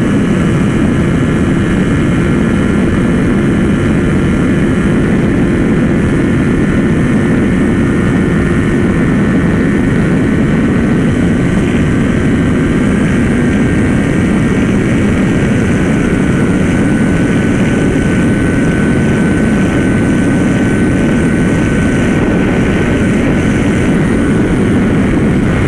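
Kawasaki Ninja 400 motorcycle engine, new and not yet broken in, running steadily at high revs while riding through traffic, a loud continuous drone with wind rush and no talk.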